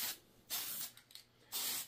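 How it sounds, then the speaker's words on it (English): Tamiya dull red spray paint is applied to a model building in three short hissing bursts, each lasting under half a second, close and fairly quiet. "So as we spray, there's a couple of sections that have brick on the side."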